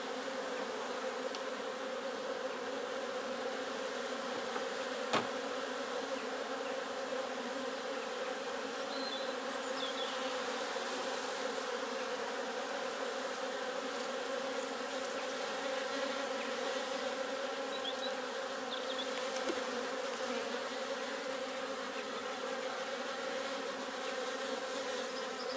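Honey bees hum in a steady, dense drone around a backyard hive under inspection, close and continuous with no voices, and one brief click early on.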